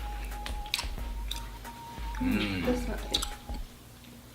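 Someone chews a soft Japanese cola-flavored snack close to the mic, making faint, moist, squishy bites. Brief clicks and a voiced murmur come in between the bites.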